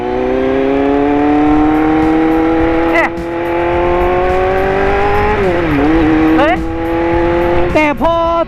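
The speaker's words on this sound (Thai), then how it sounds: "ขอลองขี่แบบเร็ว ๆ หน่อยแล้วกัน" A Kawasaki Z800, converted to ZX8 styling, is ridden fast. Its engine note climbs steadily, dips sharply at each gear change, then revs up again, loud and close.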